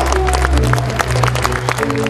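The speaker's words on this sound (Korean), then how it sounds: "다시 한번 뜨거운 박수를 부탁드리겠습니다" Applause from a rally crowd at a Democratic Party joint campaign speech event for party leadership candidates in Jeonbuk, a dense, steady wash of clapping throughout with loud low music or hum underneath.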